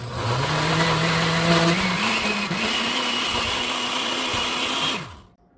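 A blender grinds ingredients for beef egg bread, its motor whining loudly and steadily with the pitch shifting upward as the load changes, then winding down and stopping near the end; no one speaks.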